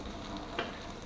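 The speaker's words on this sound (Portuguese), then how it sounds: "vai ter que fritar tudo" Linguiça sausage and bacon frying in a pan, a steady close sizzle with a brief louder crackle in the middle, no voices.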